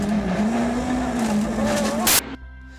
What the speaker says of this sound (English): Andreas hit a patch of loose gravel that sent this car into a slide.